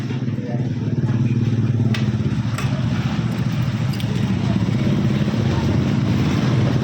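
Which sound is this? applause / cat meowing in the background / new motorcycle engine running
new motorcycle engine running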